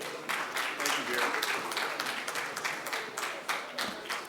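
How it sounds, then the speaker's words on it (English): Audience clapping for a speaker at an agricultural investment event, a moderate, somewhat distant round of applause that continues steadily and fades slightly toward the end. "Please, let's clap for him."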